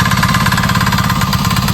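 A tractor engine labours steadily while ploughing dry, rain-starved farmland, a dense low rumble with a faint knocking pulse, close and continuous with no voices.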